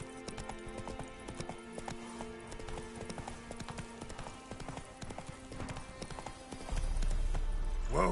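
Roach, a horse in The Witcher 3, gallops in quick rhythmic clip-clop hoofbeats over a game soundscape. Near the end a louder low rumble takes over.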